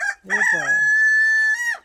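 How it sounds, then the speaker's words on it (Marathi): A frizzle-feathered desi breeder rooster on a farm crows once, close and loud, ending in a long sustained high note. "हा आहे आपला उलट्या पकाचा ब्रीडर कोंबडा"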